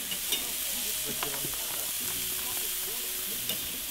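Bacon burgers sizzle steadily on a grill, a continuous crackling hiss with a few brief tonal clinks and scrapes mixed in, fairly close and without voices.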